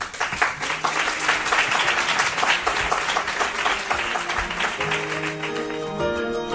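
A radio studio audience breaks into sustained applause, a dense wash of many hands clapping close by, with a voice surfacing briefly near the end.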